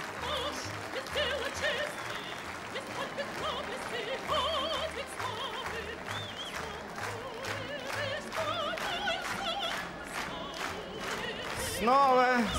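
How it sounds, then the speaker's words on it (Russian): Studio audience applause and crowd noise rise and fall continuously through a broadcast satirical segment, dense clapping with cheers, fairly faint overall and growing louder near the end. "Так что аплодисменты."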